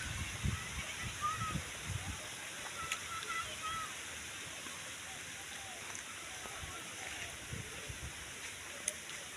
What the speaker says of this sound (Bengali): প্রচুর পরিমাণ বৃষ্টি নামছে। বৃষ্টি আসলে নেমে পড়ছে এখন।